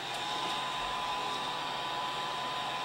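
A heat tool blows steadily as it melts encaustic wax onto a picture, giving a constant close whoosh that stays even throughout with no voices.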